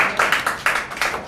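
An audience claps at the opening of a Tamil cultural society's inaugural meeting in Nellai, a loose burst of hand claps in uneven pulses, fairly loud and filling the hall, with no speech over it.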